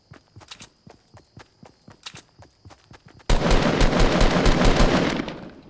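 Fortnite Battle Royale game audio: a series of rhythmic footsteps, then a sudden, loud, sustained burst of rapid automatic gunfire that continues for several seconds.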